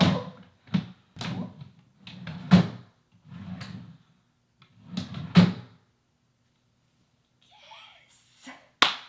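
A thrifted drawer is slid open and shut again and again, making a series of close wooden thunks and sliding scrapes with short pauses between them, then a brief faint sound and a final sharp knock.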